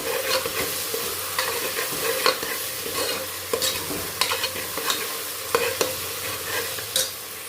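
Onions stir-fried with ghee in a pan for beef vindaloo, a continuous loud sizzle under frequent spatula scrapes and taps against the pan.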